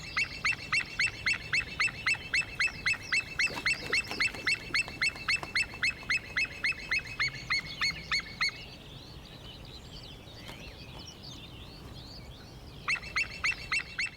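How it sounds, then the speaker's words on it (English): A white-tailed eagle calling from a scrap metal dump, a rapid series of loud, high, yelping honks in a steady rhythm that pauses briefly and then resumes, with no voices present. "Sounds just like another white-tailed eagle."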